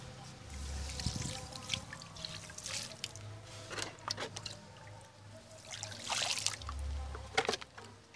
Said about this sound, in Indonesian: Kita siram sedikit air.